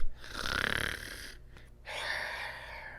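A reader imitates snoring aloud, with two loud, raspy breathy snores close to the microphone and a short silent gap between them.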